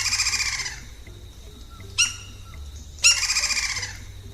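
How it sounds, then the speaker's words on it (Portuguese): Lineated woodpecker, the red-crested species common in Brazil, giving a loud ringing call of rapid repeated notes, heard in two bursts at the start and end with a sharp note between, against faint low background. "uma das espécies mais comuns do Brasil é o pica-pau de topete vermelho"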